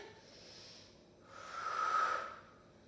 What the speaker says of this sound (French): J'inspire, j'expire.